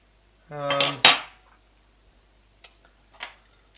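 Metal clatter and clinks as the shell of a metal CYMA M4A1 airsoft gun is pulled apart after its screws are removed: two close, sharp rattling knocks, then a couple of faint taps.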